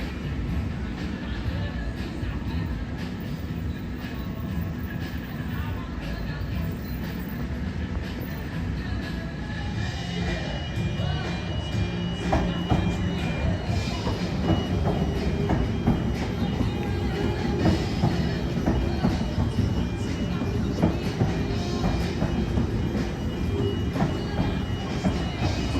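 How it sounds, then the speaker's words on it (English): NSW passenger train running through Hamilton station at night, a loud continuous rumble of wheels and carriages passing close by with rhythmic rail clatter, sustained throughout without talk. "Just passing me now, we have NSW 12 bound for Newcastle"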